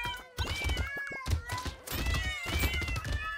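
Dense overlapping cat meows from a cat-paw weapon in the game Brotato, layered over constant battle noise and thuds, loud and nearly continuous.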